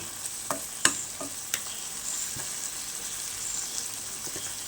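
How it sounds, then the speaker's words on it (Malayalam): Chilli, turmeric and chicken masala powders frying with tomato and onion in a pan give a soft, close sizzle, broken by several sharp scraping stirs and clinks in the first two seconds, then a quieter steady hiss. "മുളക് പൊടി മഞ്ഞൾപ്പൊടി പിന്നെ ആവശ്യത്തിനുള്ള ഉപ്പ് കുറച്ച് ചിക്കൻ മസാല എല്ലാം ഇട്ടിട്ട് ഒന്ന് ചൂടാക്കി എടുക്കട്ടെ"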